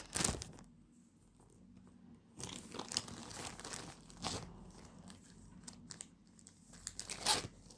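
Packaging from an online order being torn and opened, with crinkling, crunching plastic and paper in bursts of tearing and rustling, fairly close and loud, with no talking.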